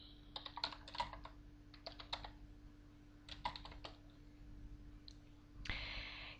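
Close computer keyboard typing a command in the Aardwolf MUD: quick clusters of key clicks separated by short pauses, ending in a brief louder burst of noise.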